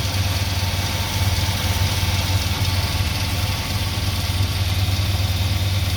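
A smoky Dodge engine on a budget carburetor idles steadily and close by: a low, even rumble that holds without revving for the whole stretch, with no talk.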